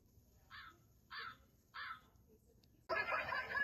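A karaoke machine's crow sound effect gives three evenly spaced caws, followed by a sudden burst of loud, broadband noise that cuts in and continues to the end.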